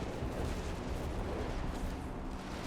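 Artillery barrage in Company of Heroes 3 pounds continuously, with dense overlapping booms and rumbling blasts filling the scene, loud and unbroken throughout.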